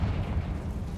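A Confringo fire spell bursts in Hogwarts Legacy, a dense low rumbling blast that fills the whole second at steady loudness with no talk over it.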